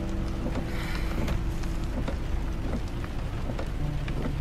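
Heavy rain pours steadily in a stormy downpour, with low thunder rumbling underneath throughout.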